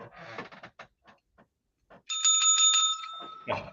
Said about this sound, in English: that anytime it makes a lot of sense, I'm gonna ring the bell.